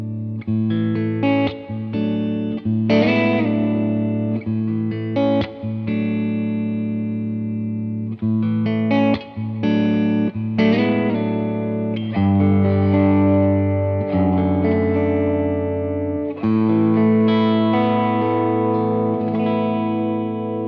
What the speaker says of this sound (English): This amp is a jack of all trades, and although it does a really good job at clean tones and at drive tones